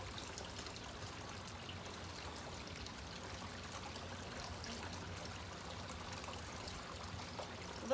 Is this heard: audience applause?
no